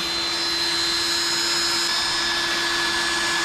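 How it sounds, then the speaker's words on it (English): Grinder turned down to reduced power during a 200-4R transmission servo rebuild, a steady broadband whir with a fixed hum running continuously and alone at moderate level. "Fire up the grinder. Turn the power down."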